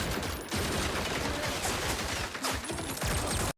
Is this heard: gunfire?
yes